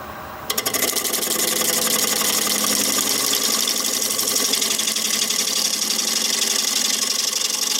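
A wood lathe spins up to a higher speed of about 700 while turning a bug-holed wood blank. A sharp start is followed by a steady, dense mechanical whir with a fast rhythmic rattle, loud and continuous, with no talking.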